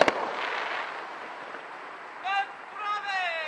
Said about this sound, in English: 5 seconds of fireworks?